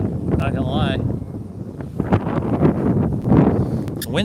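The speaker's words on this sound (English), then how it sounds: "The wind's picking up a little bit." Wind gusting outdoors in the Hollywood Hills during a fire, a broad steady rush with rumbling microphone buffeting, heard close and fairly loud throughout.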